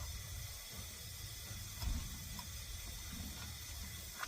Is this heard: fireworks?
no